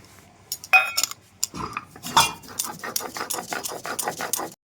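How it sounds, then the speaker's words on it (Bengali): Poppy seeds are ground by hand on a stone grinding slab for a Bengali dish, producing close, rhythmic scraping and clacking strokes of stone on stone in a quick series, alone without talk. "পোস্তটা যেহেতু কম আমার, ওই জন্য আমি মিক্সিতে এটা গ্রাইন্ড করতে পারলাম না, ওই জন্য আমি শিলে বেটে নিচ্ছি।"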